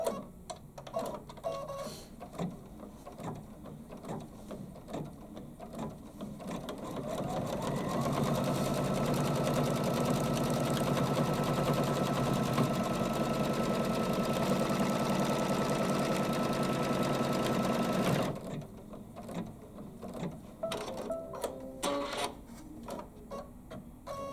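A Kimberbell project on an embroidery machine tacks down a pocket, a steady mechanical hum with a fast stitching rattle that runs loud and continuous for about ten seconds, framed by quieter handling noises before and after.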